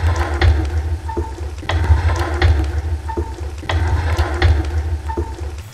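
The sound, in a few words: devolay chicken cutlet frying in pan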